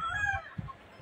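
A fighting rooster, a gamecock broodcock of the hini line, clucks and calls nearby in a short burst of fowl vocalizations with a brief low thump partway through.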